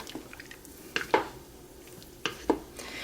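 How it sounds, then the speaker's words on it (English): Spoon stirring seasoned pasta e fagioli soup in a pot, a few sharp clinks and scrapes against the metal spaced apart over quiet background, close and fairly soft. "Get that all stirred up there."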